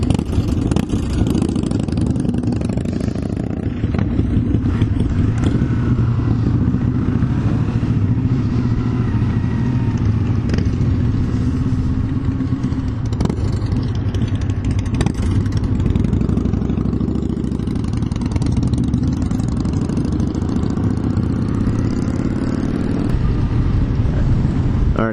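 Steady, loud engine drone and road noise from a Yamaha YZF-R3 motorcycle on a group ride toward Lake Geneva, Wisconsin, a continuous mid-pitched hum with slight rises in revs throughout.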